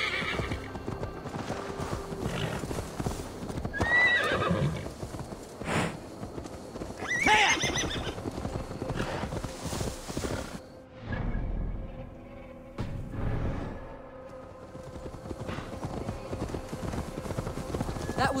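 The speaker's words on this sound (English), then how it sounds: "Now to deliver Magni his horse." Horse hooves clip-clop in a steady rhythm with loud neighs and whinnies in the Assassin's Creed Valhalla video game, set against a busy game soundscape of music and ambience.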